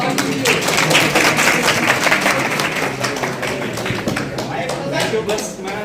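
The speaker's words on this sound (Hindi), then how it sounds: "जोरदार तालियों से स्वागत कीजिए।" Loud, dense applause from an audience at a party launching a Kumaoni song. The clapping runs steadily for the whole stretch, with crowd noise and some voices mixed in.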